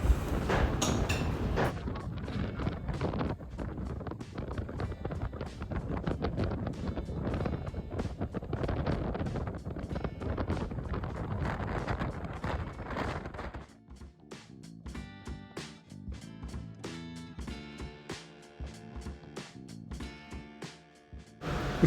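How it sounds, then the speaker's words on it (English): Rough boat ride back to Cartagena: heavy roaring wind buffets the microphone for most of the ride, with water and hull noise beneath, easing into a calmer, lighter hum and rattle near the end. "The ride back was pretty darn rough."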